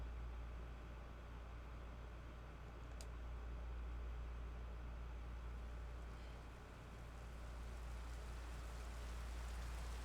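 A prolonged, quiet drizzle of rain hisses steadily and softly in the background, a continuous even wash with no voices over it.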